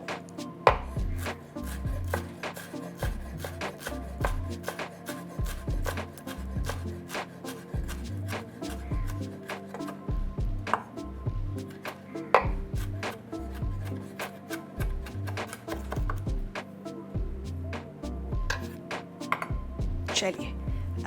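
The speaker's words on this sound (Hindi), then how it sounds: "So we are gonna avoid all of that and and में इसे चॉप करेंगे।" Fresh herbs for a jackfruit biryani are chopped with a knife on a board, making quick, even, rhythmic chops close by that continue steadily throughout against a soft background.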